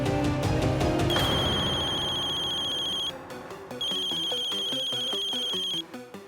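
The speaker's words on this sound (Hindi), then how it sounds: "अम्मा का फोन।" A telephone ringtone plays a loud, repeating melodic tune with bright sustained tones, breaking off briefly midway before resuming, with no voices over it.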